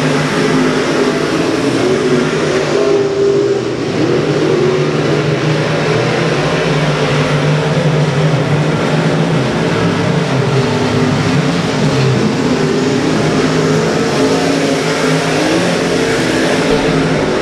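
Race cars battling on a dirt oval during the final lap of the 2017 Tootsie Smith Memorial, engines roaring and droning continuously at high volume, a steady pack of motors with no speech over them.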